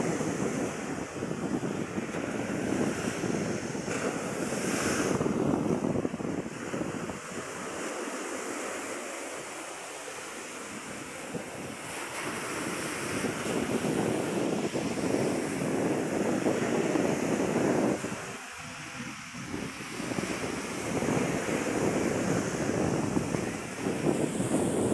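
Strong wind batters the microphone while rough sea waves surge and crash continuously along the shore at New Washington, Aklan, loud and broadband throughout with no speech.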